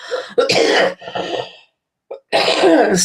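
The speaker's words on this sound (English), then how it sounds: "I still have this ratty old cough." Several harsh, raspy coughs in quick bursts, close and loud, with a short silent pause before a final heavy cough.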